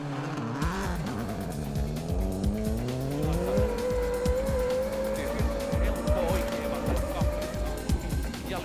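A WRC 2002 rally car in video game footage roars along frozen forest roads, its engine rising steadily in pitch with tire squeal and skidding, loud and continuous before brushing a snowbank.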